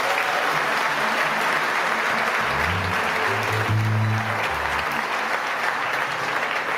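A crowd at a church prayer festival in Paris applauds steadily, a dense roar of clapping that holds at full strength from start to finish, with faint cheering voices rising in the middle.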